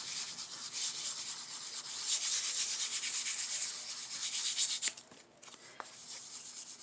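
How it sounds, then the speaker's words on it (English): Steady, close scratchy rubbing as both sides of a small craft piece for inchies and twinchies are roughened, continuous for several seconds before easing and ending in a few light scrapes. "now what I'm going to do is I'm going to roughen up both sides"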